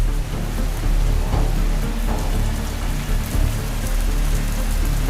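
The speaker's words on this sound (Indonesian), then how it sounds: "Hujan deras mengguyur desa Bukit Tinggi berhari-hari" Heavy rain pours steadily onto surfaces in a village setting, a dense, loud, continuous hiss with a low rumble beneath and no voices.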